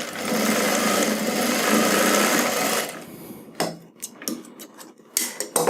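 Sewing machine running steadily as it stitches a hidden zipper into a readymade skirt, a continuous close whir for about three seconds, then stopping into a few short bursts and clicks.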